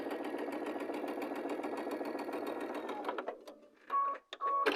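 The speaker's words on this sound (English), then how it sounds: "now we're going to sew the 1/4 inch on the other side of the drawn line" A sewing machine stitches a quarter-inch seam beside a drawn line on a bear paw quilt block, a steady close whirring run for about three seconds that stops, followed by a few short sharp clicks and tones.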